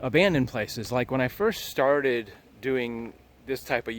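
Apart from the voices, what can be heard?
No everyday noises stand out.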